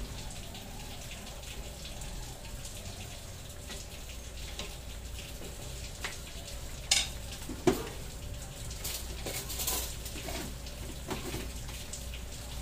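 Pork liver simmering and bubbling in a pan with a soft, steady sizzle, broken by a couple of sharp clinks and stirring noises; no voices.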